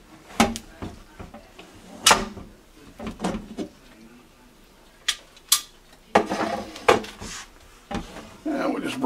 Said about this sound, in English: we'll go ahead and open our pressure cooker